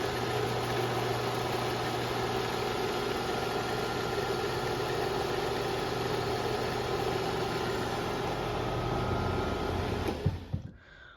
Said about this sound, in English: my LiftMaster screw drive model 2110